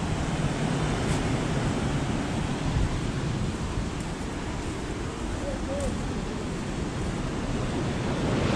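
Ocean surf at dawn at the far end of Leme Beach in Copacabana, Rio de Janeiro, a constant broad wash of waves mixed with wind rumble, with no clear break in the roar.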